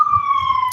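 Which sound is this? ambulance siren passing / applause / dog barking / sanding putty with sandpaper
ambulance siren passing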